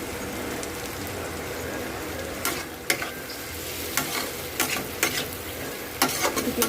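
Shrimp frying in a pan of spice masala, a loud steady sizzle broken by several sharp scraping stirs that come more often toward the end, with no talking.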